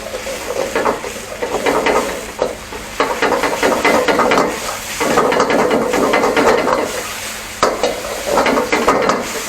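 Chicken stir-frying in a pan with chopped chillies for pad kra pao, a loud steady sizzle with scraping and stirring strokes of a utensil against the pan, no voices.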